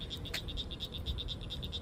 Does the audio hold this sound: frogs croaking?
yes